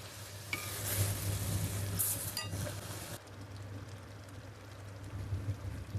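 A spoon stirs Kaleji Petha curry in a hot pan. The scraping and clinking ring out loudly over a steady sizzle, then the stirring stops and only a softer frying hiss remains.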